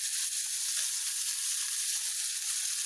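Smashed burger patties for a Texas double decker burger sizzle steadily on a hot cooking surface, a loud, continuous close-up frying hiss with no talking.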